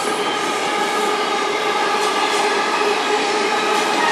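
A train rolls past on the rails of the Strathroy Subdivision, a loud, continuous rumble with rolling wheel noise that stays close and steady from start to finish.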